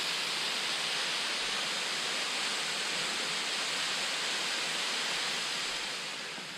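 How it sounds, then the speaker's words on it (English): A waterfall along the Pictured Rocks coastline pours in a dense, even broadband rush, steady and fairly near, fading slightly at the very end with no voices. "we got a waterfall"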